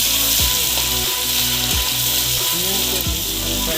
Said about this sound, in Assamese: এতিয়া আমি দিম মছলা, যিখিনি মছলা পেষ্ট বনোৱা হৈছিলে আপোনাৰ আদা নহৰুৰে,